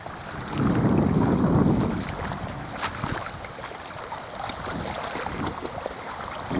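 A ChrystalBay inflatable boat with a Tohatsu 15 hp outboard motor moves across open water. Engine drone and water wash sit under heavy wind buffeting on the microphone, which is loudest early and then eases.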